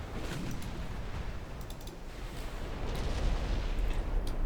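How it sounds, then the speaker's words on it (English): Naval video game battle with 9-inch guns pounding an enemy ship, heard as a rumbling, continuous barrage of deep booms and blasts that grows louder toward the end. "9-inch guns ripping into the vulnerable bits of the ship."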